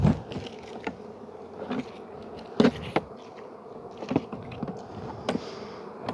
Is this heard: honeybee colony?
yes